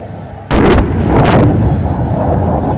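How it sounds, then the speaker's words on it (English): Rockets fired from an Indian Air Force aircraft during the Vayu Shakti 2019 firepower demonstration, two loud bursting roars in quick succession, then a sustained rumbling boom that trails off. "Rockets away!"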